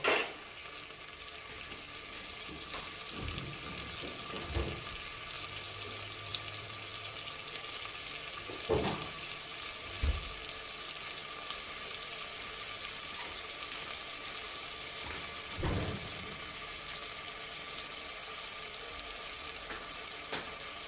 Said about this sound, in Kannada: ಈಗ ಆಲೂಗಡ್ಡೆ, ಬದನೆಕಾಯಿ ಎಲ್ಲ ಬೇಯ್ತಾ ಇದೆ, ಟೊಮೊಟೊ ಎಲ್ಲ ಬೇಯ್ತಾ ಇದೆ